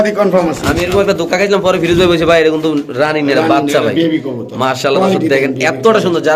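Pigeons coo inside a pigeon shop, their low calls partly buried beneath loud, continuous talk from a nearby man throughout.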